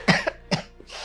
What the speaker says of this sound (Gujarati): હું ઉધરસ આવે છે